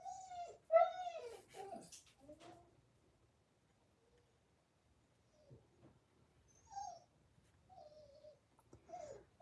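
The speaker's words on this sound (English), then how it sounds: "I don't know if you can hear my dog crying in the background" A pet dog whimpers and whines for its dinner in short, high, plaintive bursts with pauses between them, faint and indoors, heard alone without talk.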